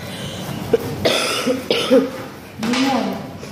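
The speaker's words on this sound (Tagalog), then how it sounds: "Tapos inuubo pa ako." Someone coughs several times in short bursts, close by, with a voice talking between the coughs.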